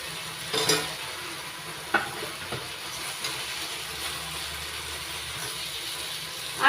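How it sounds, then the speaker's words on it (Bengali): Fried potatoes go into a pan of cooked-down masala, and a low sizzle runs throughout under close scraping and stirring strokes, with several sharp knocks of the spoon against the pan. "এবার দিয়ে দিচ্ছি ভেজে রাখা আলু।"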